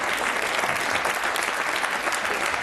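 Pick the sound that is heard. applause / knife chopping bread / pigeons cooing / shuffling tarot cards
applause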